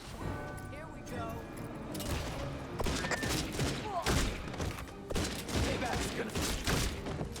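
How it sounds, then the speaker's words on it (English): Bursts of video game gunfire crackle through a busy, dense mix of thuds and crashes, with loud volleys recurring throughout and speech-like game audio underneath. "they can't hear the gunshots?"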